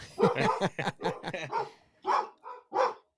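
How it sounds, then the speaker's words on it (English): Several dogs barking outdoors in a quick run of sharp, loud barks followed by a few spaced bursts, heard close and alone with no talk over them. "I don't know what's going on outside, but my dogs are going nuts."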